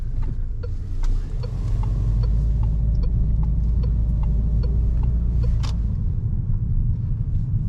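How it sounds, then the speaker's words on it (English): Peugeot turn indicator clicking inside the cabin at night, an even, regular tick of soft clicks over a constant low engine and road rumble while driving. "What do you think about the clicking sound of the indicator?"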